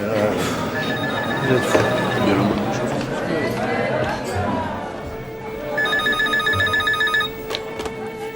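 A telephone rings in bursts of an electronic bell in a police commissioner's office scene, under people talking and background chatter.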